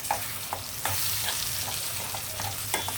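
Ivy gourd chutney cooks on a stove with a soft, continuous sizzle and a few light scraping stirs, quiet and close with no talking.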